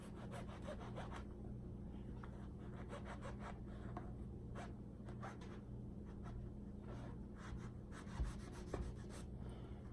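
Knife slicing through a thick eggplant slice on a cutting board, faint repeated scraping and sawing strokes in a quiet kitchen.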